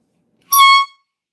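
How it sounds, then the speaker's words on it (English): A toy air horn gives a single short, bright honk of about half a second, loud and close, with nothing else around it. "Only issue on the other side is an air horn."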